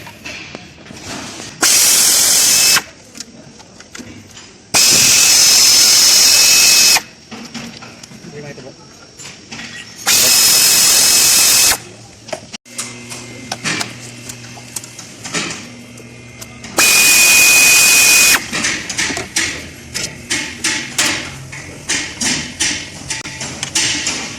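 A power tool removes the 10mm and 7mm bolts from a transmission control module during a repair for a no-shift fault. Four loud, sustained whirring bursts come through, separated by stretches of talking.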